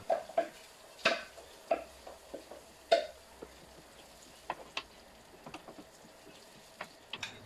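Tomatoes, three or four with five garlic cloves, go into a pan of softened onion. Close knocks and clatter against the pan come at an uneven pace, followed by lighter scraping and stirring taps. No one speaks.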